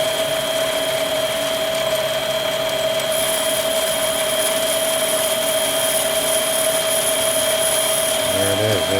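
Metal lathe with a high-speed steel cutting tool machining brass at moderate RPM, giving off a constant, loud mechanical whine with a steady high-pitched tone and no pauses, close by.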